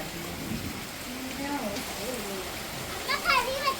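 Rain falls steadily outdoors, a soft continuous patter heard beneath nearby children's and adult voices talking.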